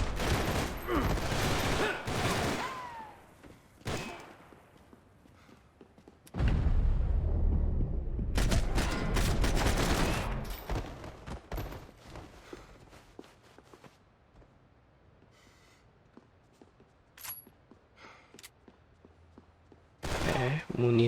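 Gunfire bursts in the Max Payne 3 prison escape, loud close volleys in the opening seconds and again in a long dense stretch from about six to ten seconds, with sporadic shots later and quieter gaps between.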